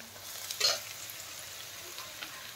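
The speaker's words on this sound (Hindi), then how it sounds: "आम पूरा काटिकी छोट छोट कर रखिदा पियाज को आम तेल रे पकईकी भाजबा" Chopped onions fry in hot oil for a chicken kasha, giving a low steady sizzle with one brief louder stirring scrape early on and a few faint clinks.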